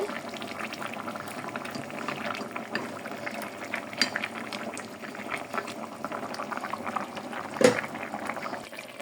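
A bottle gourd (lau) curry bubbles steadily in a rice cooker, giving a continuous soft boiling and simmering with occasional small pops. The sound is moderately quiet and close, with no talking.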